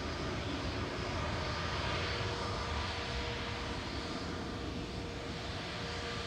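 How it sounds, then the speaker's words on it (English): TAP Air Portugal Airbus A320neo at Manchester Airport at night, a continuous steady jet engine roar with a slow swell and ebb, no voices. "This is an A320 Neo."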